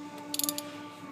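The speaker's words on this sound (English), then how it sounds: "It's a 36 millimeter. Special socket for it." Ratchet with a shallow 36 mm socket loosening the frame-rail fuel filter on a Ford Powerstroke diesel: a brief burst of about five quick clicks, close and distinct over a steady background hum.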